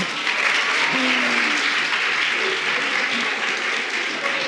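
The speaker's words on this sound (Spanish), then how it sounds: "¡Aplauso!" A short burst of lively applause in a podcast studio, dense and even throughout, with a faint voice briefly audible beneath the clapping.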